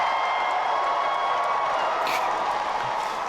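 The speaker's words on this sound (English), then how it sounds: "That is at least 10 times louder than all the applause we got" Dense applause and cheering from a packed Comic-Con Hall H audience greeting Keanu Reeves, a steady roar of clapping and whoops that holds loud and unbroken throughout.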